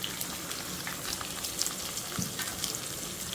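Small shallots frying in sesame oil in a pan for a spicy Chettinad mutton kulambu, giving a steady, close crackling sizzle with faint stirring scrapes and no voices.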